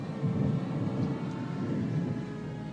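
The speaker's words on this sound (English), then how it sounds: "There's a storm coming up." Deep, steady rumble of thunder from an approaching storm rolls on without a break, a loud low roar that swells and settles slightly over a few seconds.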